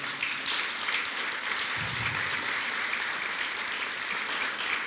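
A church congregation applauds in a continuous, moderately distant wash of clapping that holds level throughout, with a brief low murmur partway through.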